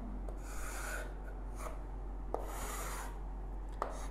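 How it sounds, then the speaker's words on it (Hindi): A pen writes a final answer by hand on paper, giving soft, close scratching strokes in bursts with small taps between them and no talking. "मैं अब फाइनल आंसर आपके सामने लिख रहा हूं"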